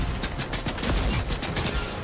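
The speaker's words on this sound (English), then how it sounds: "why are you shooting me?" Gunfire in the video game Fortnite, a rapid burst of repeated shots with a loud, dense rattle across the whole clip and no talk over it.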